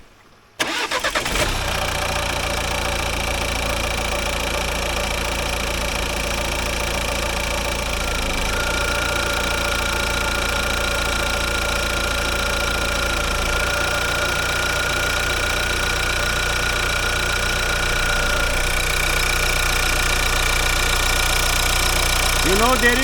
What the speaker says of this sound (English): Right now I'm going to start the engine.